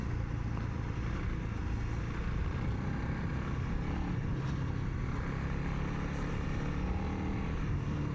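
Honda CRF300L motorcycle ridden in third gear, heard as a steady, muffled engine drone mixed with wind rush, constant and moderately faint, no talking.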